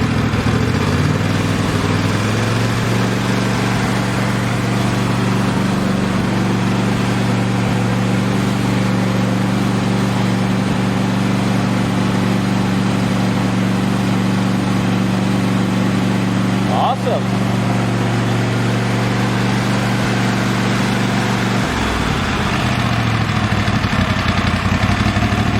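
A Cub Cadet X1 lawn tractor engine idling close by, a steady loud rumbling drone with a constant hum that drops off briefly near the end, with a person talking over it.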